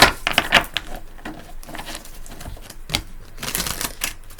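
Tarot cards being shuffled and drawn at close range, a series of crisp papery flicks and riffling taps in irregular bursts, with quiet pauses between them.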